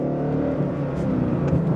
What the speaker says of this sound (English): That was like a perfect shift.